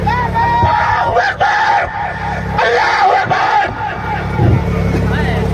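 A crowd answers a Takbir call at a shayari recitation with loud, ragged collective shouts that swell and break off in waves, voices overlapping in a roaring, chant-like chorus.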